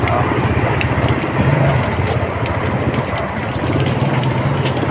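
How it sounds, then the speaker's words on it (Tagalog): Heavy rain pours down in a steady, loud, dense wash beside a tricycle parking stand, continuous for the whole stretch with no voices. "Ang lakas ng ulan."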